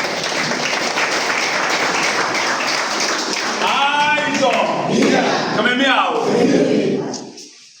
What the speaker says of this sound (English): A round of applause for our governor.